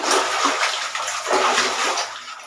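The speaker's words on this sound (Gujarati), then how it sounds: "આટલું પાણી ભરાઈ ગયું" Water rushes steadily while filling up a bag until it overflows, making a continuous close splashing and gushing sound with no voices.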